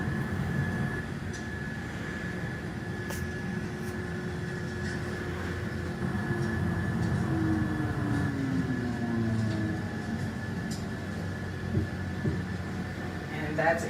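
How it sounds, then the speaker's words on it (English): Jet aircraft engines run at takeoff power while the plane rolls down a runway in North Carolina, giving a steady broadband roar with a sustained whine, loud and continuous throughout from inside the cabin. "Engines powered up. And we are rolling down the runway"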